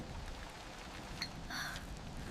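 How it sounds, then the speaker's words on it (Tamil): Steady rain falls outside an open window in a Kerala village, a soft even hiss with a few brighter drops and splashes standing out briefly partway through. "ஜன்னல் திறந்தவுடன் மழை நம்ம அன்பா வரவேற்குது."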